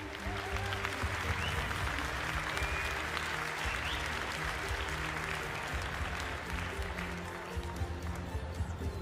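An audience applauds four cows in the adult championship judging at an agricultural show, a faint, steady spread of clapping over a low, constant hum from the hall.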